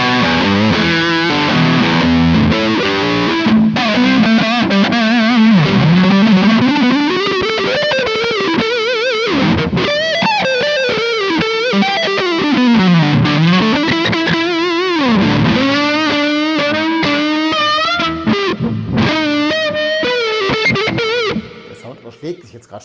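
Electric guitar lead tone through an Engl Steve Morse amp profile with delay, played on a Schecter Nick Johnston Traditional HSS as a sustained melodic line with bends and slides, loud and continuous before cutting off near the end.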